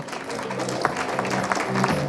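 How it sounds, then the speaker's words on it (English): A gathering at a seniors program event applauds an award recipient, a moderate patter of clapping with a few louder claps and a murmur of voices mixed in. "Please give him a round of applause"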